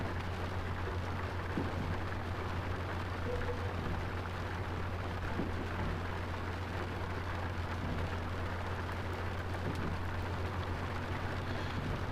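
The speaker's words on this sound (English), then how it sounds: "it's certainly raining." Steady rain falls on a passenger train in the railway game Train Life: A Railway Simulator, heard as a constant wash of noise over a low engine drone, with no talking.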